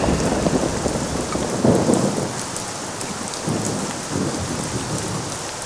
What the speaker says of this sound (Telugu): గణేష్, ఏంట్రా వర్షంలో కూర్చున్నావు?